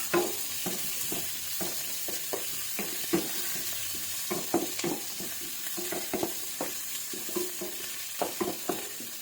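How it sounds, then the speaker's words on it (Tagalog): Garlic and onion sautéing for pinakbet: steady soft sizzle of frying with repeated scraping and stirring clicks from a utensil in the pan, close by and moderately quiet, with no talk. "Atin na igisa yung yung ating Ricardo, itong bawang. At itong sibuyas"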